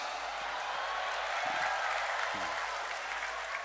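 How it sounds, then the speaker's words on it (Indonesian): Audience applause at an Indonesian religious sermon gathering, a steady wash of clapping that holds level throughout, with a couple of brief voices surfacing in the crowd. "Gak usah tepuk tangan, gak penting"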